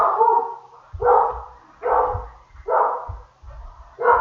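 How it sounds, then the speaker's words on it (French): A dog barks repeatedly at a steady pace, about five loud barks spaced roughly a second apart, fairly close with no talking. "vous entendez le chien de garde"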